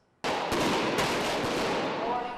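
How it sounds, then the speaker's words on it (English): Fireworks fired at police during street protests in Tbilisi, Georgia, break into a loud, sustained crackling barrage with sharp bangs and a few standout pops. The noise carries on without a break. "Fireworks launched at police in the Georgian capital, Tbilisi"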